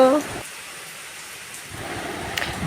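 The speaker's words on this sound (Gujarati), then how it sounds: "વરસાદ જોરદાર ચાલુ થઈ ગયો છે" Steady, dense heavy rain in Rajkot hisses throughout, briefly thinning before picking back up, with a faint voice in the background.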